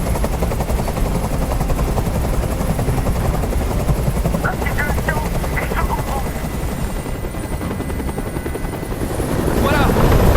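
A helicopter hovers close by in Detroit: Become Human, a loud continuous rotor thrum and engine roar that holds steady and swells toward the end, with a few faint sharp clicks and speech-like sounds under it.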